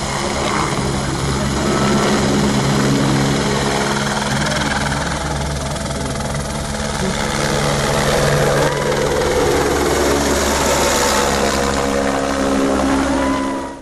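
A helicopter engine and rotor roar loudly and steadily throughout, a close, dense mechanical drone from the aircraft serving a regional air base in Sorriso.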